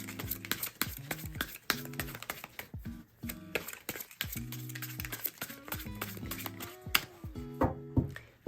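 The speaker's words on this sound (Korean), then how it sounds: "세 번째 카드를 뽑으신 별님을 위한 카드를 섞어 보도록 할게요." Tarot cards being shuffled by hand, soft quick riffling and tapping in steady bursts with short pauses, close and fairly quiet.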